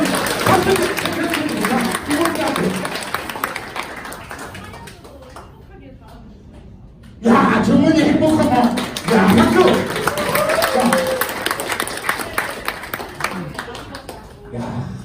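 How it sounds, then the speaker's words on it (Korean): Audience applause at a company event, a crowd clapping steadily and loudly, with people talking over it and a short quieter stretch midway. "이럴 때 박수 쳐야지 부장 님"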